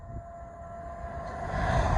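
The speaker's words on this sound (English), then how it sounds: "Here we have another GWR IET coming from London Paddington to Bristol Temple Meads." GWR IET train passing at Ealing Broadway station, a low rumble with a steady motor tone that swells gradually louder as the train approaches.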